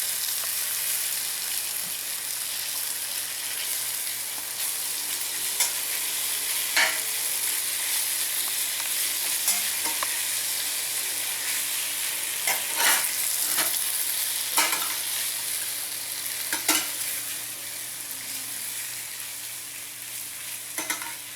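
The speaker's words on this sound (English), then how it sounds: "I'm just kind of separating the strips a little bit while I'm moving them around" Flour-coated strips of meat frying and browning in a hot pan, a steady broadband sizzle throughout with scattered clicks and scrapes as the strips are moved around and separated.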